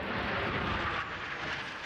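Military fighter aircraft engine roaring steadily and loudly overhead, a broad continuous rush of jet noise with no voices.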